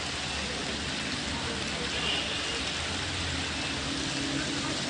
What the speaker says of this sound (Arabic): المطر ده خير خير خير والله العظيم.